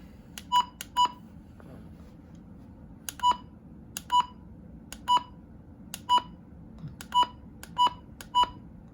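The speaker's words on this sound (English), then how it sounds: "Button beeps work." Maxon WX-3 or RadioShack 12-247/12-251 weather radio buttons sound about a dozen short, crisp electronic beeps in irregular pairs and singles, clear and close over a low background hum.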